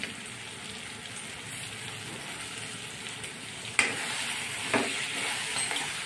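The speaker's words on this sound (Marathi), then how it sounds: "सगळं एकत्र परतून घेणे" Ground coriander, black masala, cumin powder and turmeric being sautéed together in a pan for Maharashtrian dal dhokli, a continuous even sizzle with a couple of brief stirring knocks near the end.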